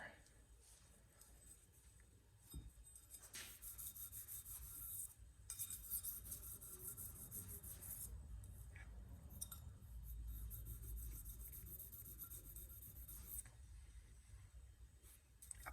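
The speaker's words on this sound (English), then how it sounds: "Buff away any roughness, any scratches." An antique jaw harp reed is rubbed on a fine sharpening stone, giving a steady, faint, hissy scraping that carries on with brief pauses, close by, under some talking.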